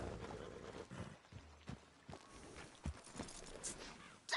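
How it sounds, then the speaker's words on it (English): In Red Dead Redemption 2, a horse's hooves clip-clop in an uneven rhythm of faint, close thuds against a quiet background. "Damn horse, acting up on me of all the times."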